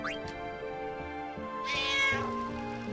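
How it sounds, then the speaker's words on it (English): A cat meows in the video game Final Fantasy IX, a couple of drawn-out, rising cries over game music, with a louder, brighter call in the middle. "Oh, this meowing was so loud."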